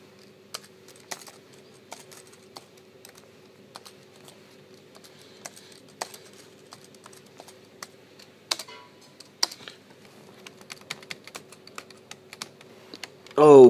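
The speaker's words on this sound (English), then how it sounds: "Oh, the keyboard is nice." Keys on a Dell Latitude CP laptop keyboard are tapped in sparse, irregular clicks at close range, fairly quiet throughout, ending in a brief louder burst.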